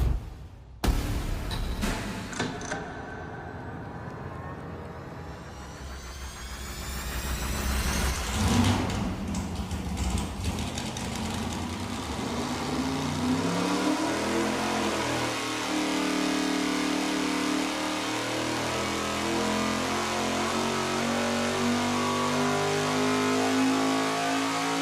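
V8 engine on a dyno run with tight-lash exhaust setup: a sharp start, then a loud sustained roar climbing through the revs with a rising whine, steady and unbroken to the end.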